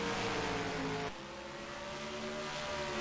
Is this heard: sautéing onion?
no